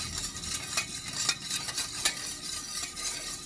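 A taho mixture made with Vitamilk is stirred in a pot, giving a continuous close scraping and swishing with a few soft clinks of the utensil against the pot's side, with no talk.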